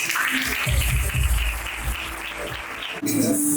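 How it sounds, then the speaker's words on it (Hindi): An audience claps for the Lord at a worship gathering, a dense, steady patter of applause that fills the room, close and fairly loud, with a brief break near the end and no clear speech over it. "बजाएगा प्रभु के ताली"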